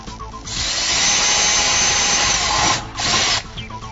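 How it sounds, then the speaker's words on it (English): A power drill bores holes into a car to fit a ZEX nitrous plate kit on a V8, a loud continuous high whir that dips briefly and picks back up, sounding close and steady. "Before you drill any holes, make sure you're not drilling into something like your gas tank."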